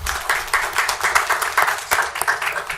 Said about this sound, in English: Okay, so you applaud them when the budget's better.